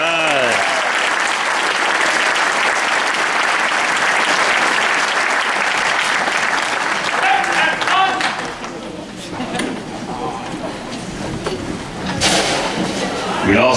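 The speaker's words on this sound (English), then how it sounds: "Let's give them a round of applause." Sustained audience applause at a high school marching band concert, dense clapping for several seconds, then thinning into scattered claps and crowd noise with faint voices toward the end.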